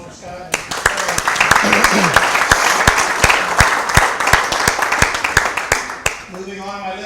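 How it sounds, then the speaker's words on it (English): A crowd at a bowling event applauds for Scott, a dense burst of clapping that starts abruptly, holds steady with a few sharp near claps, then fades as a voice resumes talking. "How about a round of applause for Scott?"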